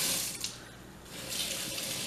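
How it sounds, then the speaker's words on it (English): Cold tap water runs steadily into a bowl holding a freshly caught mangrove snapper, a close, continuous hissing splash that swells and eases slightly, with no voices. "and you're running cold water."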